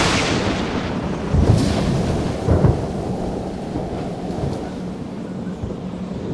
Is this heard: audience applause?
no